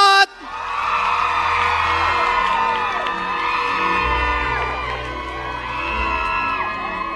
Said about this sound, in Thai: ขอเสียงปรบมือให้อีกสักครั้งครับให้กับอิงลอด